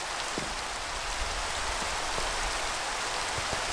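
Rain falling steadily during a thunderstorm in a video game, a dense even hiss with scattered drops pattering on a surface and no talk.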